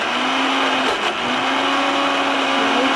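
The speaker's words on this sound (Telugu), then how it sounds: "మేమైతే మిక్సీ పట్టుకున్నాము" A mixer grinder whirs loudly and steadily as it blends a tomato pickle mixture, with a brief dip in pitch around the one-second mark before the motor picks back up.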